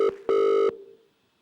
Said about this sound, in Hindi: प्रिंस करेंगे एक लाइव फोन कॉल एक मिनरल वाटर सप्लायर को